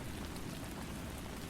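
Steady rain falls as an even, dense hiss with soft patter across the whole moment, a continuous calm wash without speech.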